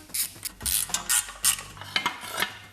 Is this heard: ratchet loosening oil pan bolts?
yes